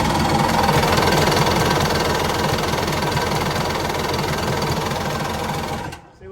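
A 2-stroke jet ski engine cranking with the choke pulled, a continuous loud rapid chugging and whirring from close by that runs steadily for about six seconds before cutting off abruptly.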